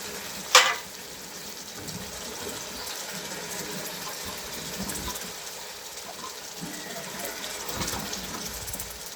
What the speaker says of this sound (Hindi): अब ना मैं इसमें डालूंगी मसाले और फिर उसको 5 मिनट फ्राई करूंगी